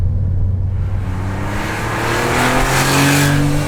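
A Porsche 911 Carrera 2.7 RS engine revs loud and close, its pitch climbing steadily as it builds over a few seconds, with no talking.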